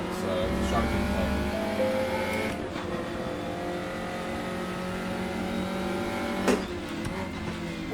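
A race car in the sim game Raceroom drones at steady engine pitch through a qualifying lap, tones shifting as it slows for braking, with a brief thump near the end and someone talking over it.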